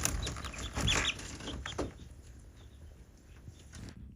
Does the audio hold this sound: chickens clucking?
yes